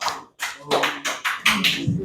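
Students at a tutorial class clap for a classmate in a series of sharp, close, rhythmic bursts, about seven distinct claps in quick succession.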